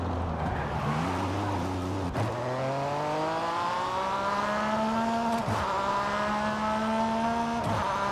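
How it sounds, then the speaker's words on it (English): Naturally aspirated 4-liter mid-engine flat-six race car in Forza Horizon 5, loud and continuous, revving up through gears with sharp shift breaks, rising pitch sweeps between each change, no talk. "This right here is a real race car, man. I love the way it sounds."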